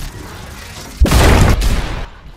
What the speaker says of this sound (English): because it's a sniper rifle